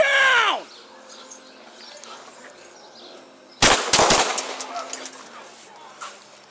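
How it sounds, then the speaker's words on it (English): Pepperball guns firing during a police confrontation at a graduation takeover: a sudden loud volley of rapid sharp pops after a quieter stretch, with fading crackling echoes and a tense background din. "Shots fired."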